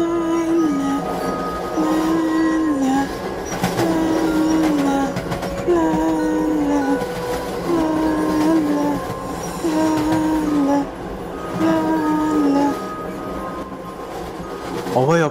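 A moving passenger train rattles along the tracks in a loud, continuous rumble with clanking bursts, while a repeating wavering tone rises and falls over it every couple of seconds.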